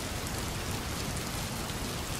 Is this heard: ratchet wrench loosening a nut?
no